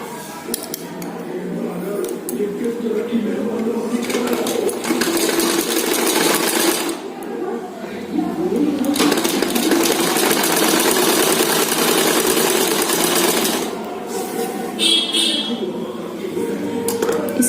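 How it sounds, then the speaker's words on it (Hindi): A sewing machine stitches a double katori blouse with lining, running steadily and fairly loud with a dense whirring hum, briefly easing off and restarting, while someone talks over it. "और यहाँ से इसकी सिलाई कर देंगे।"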